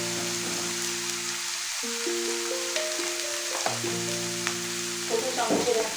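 A spice mixture sautés in a pan for chicken bhapa, giving a continuous, moderately loud sizzle with faint stirring clicks under a sustained, steady musical tone.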